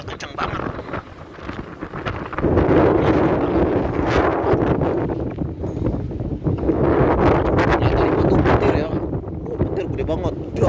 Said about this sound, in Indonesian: ternyata anginnya kenceng banget.